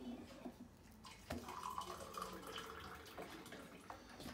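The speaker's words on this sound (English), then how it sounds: "I put the bloody tea bag in it and forgot to put the bloody water in it." Hot water poured into a mug holding a tea bag for tea: a faint, continuous trickle that rises gently in pitch, with light clinks and no talking.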